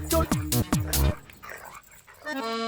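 A dog gives several quick, loud barks in a short burst, followed by quieter background sound.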